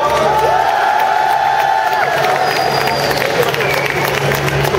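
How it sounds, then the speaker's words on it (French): A loud, continuous crowd roar with cheering and whoops fills a wrestling show hall at Japan Expo as the audience applauds the international referee, steady throughout with no clear single voice. "L'arbitre international, il s'appelle Yann Le Kersolek, on l'applaudit bien fort."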